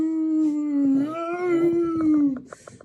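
A dog lets out a long, sustained howl that rises and dips in pitch, close and clear, ending in a few short yips and whimpers.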